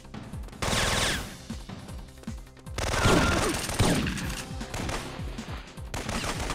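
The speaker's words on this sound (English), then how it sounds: "Shotgun." A shotgun in the PlayStation game Syphon Filter fires in rapid, repeated blasts. The loud reports come with crashing impacts and mechanical clatter, and the game's soundscape stays busy throughout.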